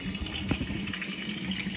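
Tap water runs steadily into a container in a home kitchen during bread making, a close, continuous splashing gush with no talking.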